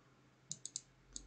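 Quiet computer mouse clicks during software installation at a PC: three sharp clicks in quick succession, a pause, then two more, close and faint over a soft background hiss.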